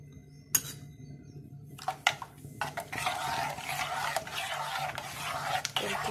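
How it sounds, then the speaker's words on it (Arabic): A spoon clinks against a pot while an egg flan mixture is stirred on the stovetop. A few sharp taps come first, then a soft, continuous swishing with occasional clinks, close but fairly quiet. "غادي نبقى نخلط فيه، ما نزقعش عليه، نستمر في التحراك حتى يعقد ليا الخليط ديالي"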